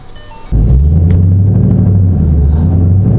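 A car engine starts and settles into a steady, loud low rumble that holds without a break, close by, with no talking.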